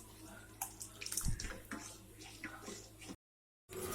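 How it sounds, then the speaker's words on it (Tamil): Saffron-infused liquid is poured into milk for rice kheer, giving a quiet, bubbling splash of liquid for about three seconds before it cuts off abruptly. "நம்ம இதை வந்து பாலில் ஊற்றிடலாம்."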